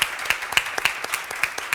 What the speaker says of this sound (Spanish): ¿Puedo pedir un aplauso,